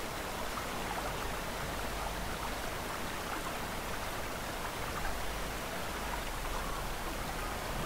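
Steady broadband water rush from a river in the Spin Tires off-road driving game, crossed by a Kamaz 43118 truck on a forest map, continuous and fairly faint throughout with no talk.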